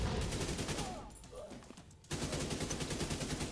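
AK rifle firing in The Division 2 video game, rapid automatic bursts with a short lull in the middle before a sharp resumption of loud, close gunfire.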